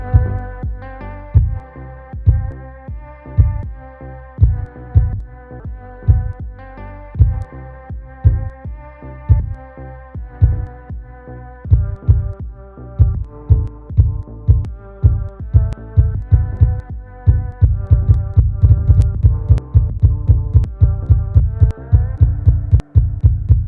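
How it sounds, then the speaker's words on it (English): A heartbeat sound effect from a Pulsoid and Streamer.bot stream alert repeats as steady deep double thumps, loud and alone, with the pace quickening toward the end. "It plays a heartbeat sound effect, but how high your heartbeat, the more heartbeat sound effects you hear."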